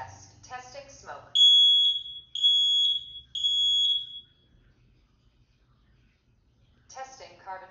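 Smoke alarm test: three loud, shrill electronic beeps in an even pattern, with a synthesized voice speaking just before and after.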